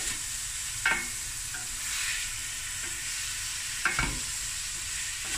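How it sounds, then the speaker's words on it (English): Garlic with a little spice flash-fries in a pan for prawn mac and cheese, giving a steady bright sizzle with a few sharp stirring scrapes near the start and again toward the end. "Flash fry. Quick, quick. go."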